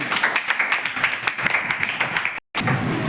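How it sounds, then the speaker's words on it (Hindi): A classroom of students applauds three quiz winners with a steady, dense patter of clapping nearby that continues for a few seconds and cuts off briefly near the end. "तो जोरदार तालियां इन तीनों के लिए।"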